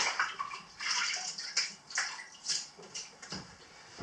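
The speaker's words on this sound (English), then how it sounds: "Wet your hands in some water." Hands splash and slosh in a bowl of water while chicken burgers are being made, a close run of short wet swishes and drips with brief pauses between them.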